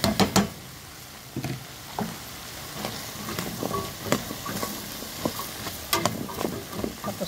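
Taro and squash pieces are stirred in a cooking pot for a Filipino vegetable soup, with irregular scraping knocks and clatters of a utensil over a low sizzling background, no voices.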